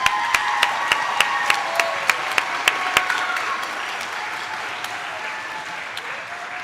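Steady applause from a school band concert audience, with a few sharp, close individual claps standing out early over the wash of clapping before it gradually thins.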